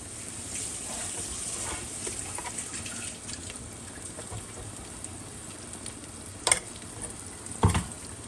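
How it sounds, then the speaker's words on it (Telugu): Masala frying in a pan for a pomfret fish curry, with tomato and fenugreek leaves already cooked in; a steady hiss of sizzling runs throughout, with a couple of sharp scraping stir strokes near the end and no talk. "మసాలాను కూడా ఒకసారి ఫ్రై చేస్తాం."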